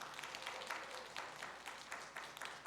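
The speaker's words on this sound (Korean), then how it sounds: "박수 한번 칩시다." Faint, scattered clapping from a small church congregation, in loose rhythmic bursts at a distance.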